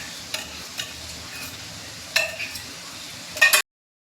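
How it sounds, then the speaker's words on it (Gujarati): Tomato gravy is stirred into spinach and paneer in a cooking pot. A low, quiet simmer runs underneath a few sharp, separate scraping strokes, the last and loudest at the very end, with no talking. "હવે છે ને ટામેટાની ગ્રેવી છે. જો ટામેટાની ગ્રેવી નાખી દેવાની."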